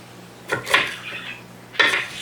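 A knife chopping vegetables on a cutting board: two or three close, separate clusters of sharp, crisp cuts with short pauses between them. No voices.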